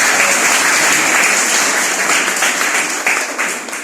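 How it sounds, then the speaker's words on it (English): Audience applause at a poetry performance program, steady, loud clapping from many hands that fades slightly as it goes on, with no talking over it. "just clap your hands."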